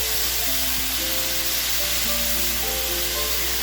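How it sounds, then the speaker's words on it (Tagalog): String beans (sitaw) fry in a hot pan with a steady, loud sizzle throughout, broken by faint scraping and stirring, with no talking. "iprito natin ng bahagya hanggang sa magbago ang kulay niya"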